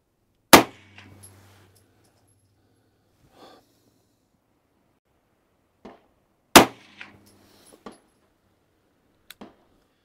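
Two sharp, loud 9mm shots from an HK VP9 pistol fired at a 20% NATO ballistic gel block from seven yards, spaced about six seconds apart, each followed by faint clinks and handling noises in a quiet setting.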